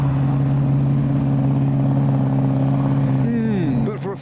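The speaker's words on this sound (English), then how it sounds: "Oh, I think I can hear an F40 arriving." A Ferrari F40 rolls up to a hotel, its engine a steady, close mid-pitched drone that shifts and fades near the end, with a voice speaking over it.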